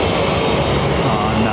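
An Airbus airliner at London Heathrow roars close by in a brief, loud, steady burst of broadband jet engine noise.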